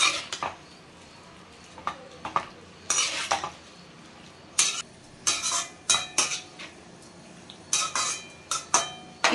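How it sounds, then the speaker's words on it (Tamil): Spices, salt and masala stirred and sautéed in a pan, with a metal spoon scraping and clinking against the pan in irregular close knocks over a soft background. "இதெல்லாம் போட்டு இதை ஒரு பரட்டிக்கலாம்."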